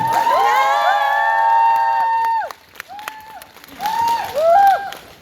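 A concert audience at a solo concert in Seoul cheers loudly with high, sustained screams and whoops over applause. The noise dips briefly at mid-clip, then swells again into a second burst of shrieking cheers.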